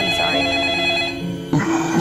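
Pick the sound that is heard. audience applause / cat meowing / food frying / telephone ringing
telephone ringing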